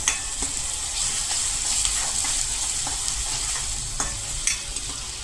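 Kantola (spiny gourd) curry with tomato paste cooking in a pan, a steady close sizzle and hiss of frying with soft scraping stirs throughout.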